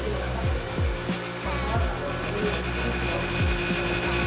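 A vacuum packing machine sealing smoked fish in Calbayog City, Samar runs with a loud, steady mechanical drone and recurring low thumps throughout.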